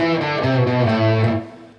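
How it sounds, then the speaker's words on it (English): Distorted electric guitar runs up a scale without string muting, notes blurring together with a buzz of stray ringing strings, then the sound fades out. "All that noise is created by, inadvertently touching the other strings or them ringing out"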